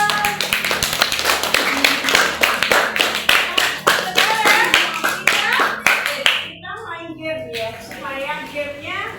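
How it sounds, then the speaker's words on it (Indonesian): A classroom group claps hands in quick rhythmic bursts for about six seconds, loud and close, then fades as a voice speaks over the tail. "Tepuk tangan ya."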